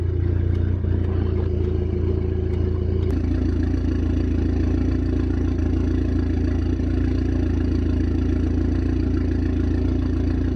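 A Mitsubishi Eclipse 2G engine, tuned with an AEM FI/C 6, idles with a steady, close, low rumble and faint mechanical clatter, with a slight change in tone a few seconds in.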